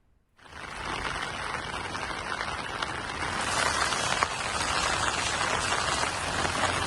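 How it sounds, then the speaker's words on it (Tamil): Steady rain falling in Kayalpattinam, Kulasekarapattinam, Udangudi, Athur and Kurumbur areas of Thoothukudi district, a dense even hiss that starts abruptly and swells slightly louder partway through, with no voices. "இது தவிர காயல்பட்டினம், குலசேகரப்பட்டினம், உடன்குடி, ஆத்தூர், குறும்பூர் உள்ளிட்ட பகுதிகளிலும் மழை பெய்து வருகிறது."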